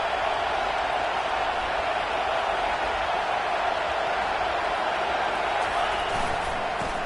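Steady roar of a stadium crowd at an Alabama vs South Carolina college football game, loud and continuous throughout with no break or swell.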